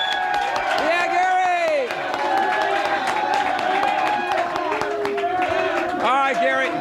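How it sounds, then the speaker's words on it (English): An audience claps and cheers for Navy sailor Gary Schaefer, a continuous patter of applause with whoops, running under loud talking throughout. "Gary Schaefer, let's give him a nice round of applause."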